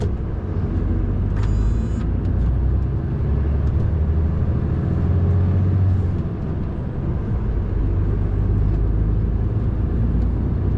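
Delivery truck driving and slowly turning through a tight yard, a loud steady engine rumble with a brief air-brake hiss and squeal near the start, no talk.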